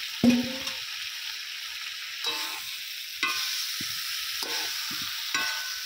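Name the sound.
fried cauliflower and potato sautéed with spices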